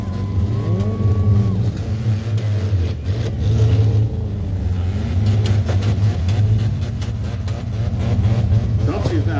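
A demolition derby car's engine revs hard and accelerates out of a corner, loud and sustained and rising in pitch, with other engines droning close by.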